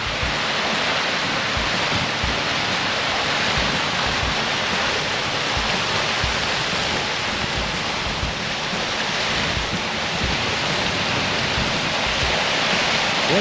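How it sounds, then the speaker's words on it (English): A small waterfall and noisy river rapids on the Savage River in Denali National Park, a steady, loud, broadband rush of water that continues unbroken throughout with no voices. "Got a little bit of a drop here, causing a small waterfall with some noisy rapids."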